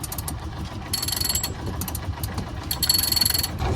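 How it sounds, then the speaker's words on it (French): A sailboat's small engine runs with a steady low, rhythmic chugging and a high whine, close by and moderately loud, with no talk over it. "Ah, et le moment le plus appréciable, on éteint le moteur."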